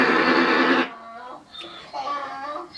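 A donkey brays loudly in a single harsh, drawn-out call that cuts off abruptly. Fainter voices and indistinct sounds follow close by.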